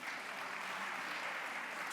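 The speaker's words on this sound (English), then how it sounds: "Let's give a round of applause again to the" Steady applause from a conference audience at a business SMME event, a smooth, even wash of many hands clapping at moderate volume throughout.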